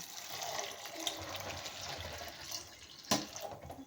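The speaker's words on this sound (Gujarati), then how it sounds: "આ 1 વેઢો જેટલું પાણી ઉપર રહે એટલું પાણી નાખીને સાબુદાણાને આપણે પલાળવાના છે." Water is poured into a bowl to soak washed sago pearls, giving a soft, fairly faint trickle and splash with one brief louder slosh near the end.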